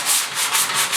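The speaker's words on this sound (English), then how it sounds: "I've just got to do some sanding, you know, down in here." Hand sanding of bodywork on the bed posts of a 1969 Ford Bronco, a close, loud rhythmic scratchy rasp with about four back-and-forth strokes and no talk.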